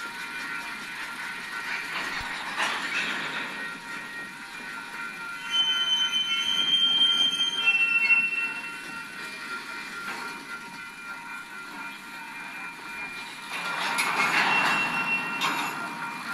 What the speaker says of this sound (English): Now here's the whole train reversing.